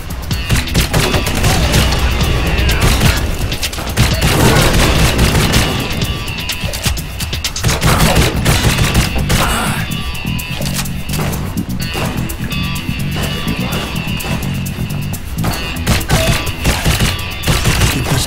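Continuous heavy gunfire in the video game Blue Estate, set in a tunnel, with dense rapid volleys and booming shots running loud throughout, no talk.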